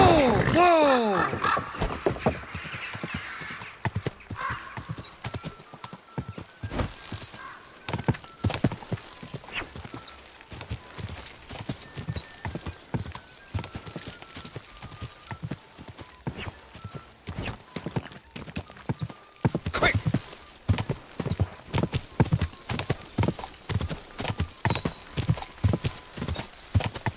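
A horse neighs in the video game Kingdom Come: Deliverance II, then hooves pound in a fast, rhythmic gallop that carries on steadily for a long stretch, with short voices mixed in.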